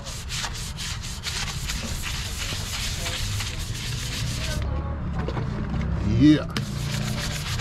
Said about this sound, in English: get yourself a lug nut brush because it makes all the difference